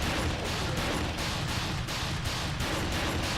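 Shotgun blasts aimed at Larry Chang in the video game Dead Rising, a steady rhythm of loud repeated booming shots, roughly one every third of a second, filling the whole moment.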